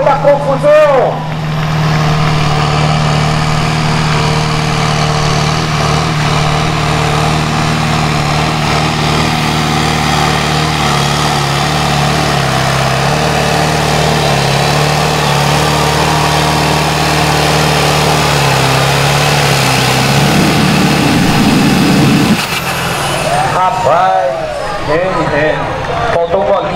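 A heavy 3500 kg agricultural-class tractor engine at a tractor pull in Holambra, Brazil, roars loudly and steadily for a long stretch, then revs harder near the end as an announcer talks over it.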